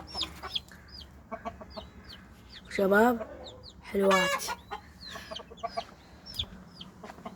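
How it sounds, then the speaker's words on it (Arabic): Chickens at a home bird pen, with a rooster and a hen among them, cluck softly and steadily. Two louder, drawn-out calls stand out in the middle, and someone speaks briefly over them. "الدجاجات ديك دجاجة"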